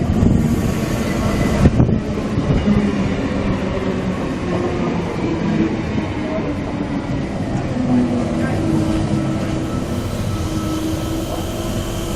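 A special charter train rumbles steadily past at close range as it arrives at Cootamundra station, Australia, with constant low mechanical noise, wind buffeting the microphone, and a brief clank early on.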